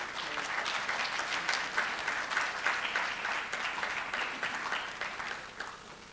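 Sustained applause from the delegates at a parliamentary meeting of women parliamentarians, steady dense clapping that holds for several seconds before tapering slightly at the end.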